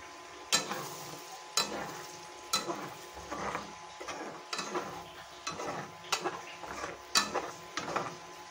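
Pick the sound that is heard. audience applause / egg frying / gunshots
egg frying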